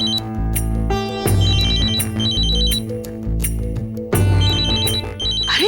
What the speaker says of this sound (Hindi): कब से फोन बज रहा है? उठाती क्यों नहीं बेटा?